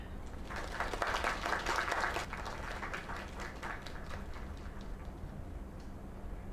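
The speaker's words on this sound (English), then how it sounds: "Another round of applause." Video game crowd applause with many hands clapping, loudest at first then settling into a steady, thinner patter that continues for several seconds.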